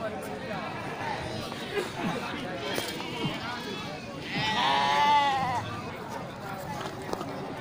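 Sheep bleat at a livestock market selling sheep and goats ahead of Maulid, with one drawn-out, wavering bleat rising clearly near the middle over busy crowd chatter and people talking.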